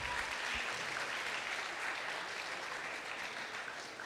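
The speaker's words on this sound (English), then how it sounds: "let's give Mary another round of applause" An evening running-camp audience gives steady, sustained applause throughout, a dense wash of clapping at moderate volume with no voices standing out.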